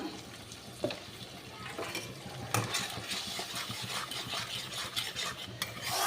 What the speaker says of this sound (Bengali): এবার মশলাটা একটু রান্না হবে।